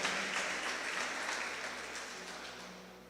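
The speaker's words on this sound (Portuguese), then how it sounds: "Pode aplaudir ao Senhor." A church congregation claps steadily and loudly during a Sunday evening service, a sustained wash of applause from many hands that slowly fades.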